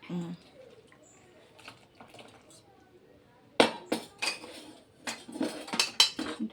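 A spoon stirs a sweet snack mixture with melted jaggery in a pan, giving sharp metallic clinks and scrapes that start sparse and turn rapid and louder in the second half, with some talk.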